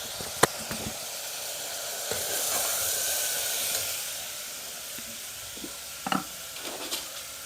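Tomato and onion cook in a pan with a soft, low sizzle, a few sharp utensil taps and scrapes scattered through, quiet and close with no speech.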